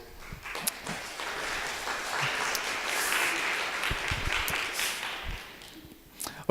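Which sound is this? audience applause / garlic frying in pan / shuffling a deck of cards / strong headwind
audience applause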